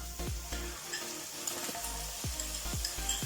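Tomato paste hits a hot pan of mixed vegetable curry with coriander, giving a steady close sizzle and frying hiss, with a few soft stirring scrapes and spoon taps spread through.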